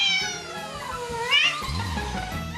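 A house cat gives a loud, drawn-out, wavering meow up close, rising and then falling in pitch, with low household rumble underneath and no one talking.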